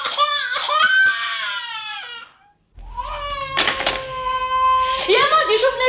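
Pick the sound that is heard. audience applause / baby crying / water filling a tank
baby crying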